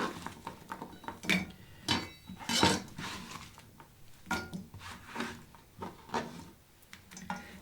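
Chopped vegetables are scraped and dropped into a skillet, producing a series of close clinks, wooden knocks and soft rustling pats at an uneven rhythm.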